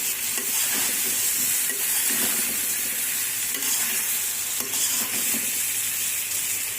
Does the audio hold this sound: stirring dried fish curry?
yes